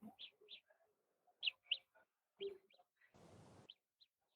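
Soft, high chirping notes from an earbud's bird-like notification sound, in short bursts like a small bird's tweets, quiet and intermittent, with a brief hiss of noise near the end.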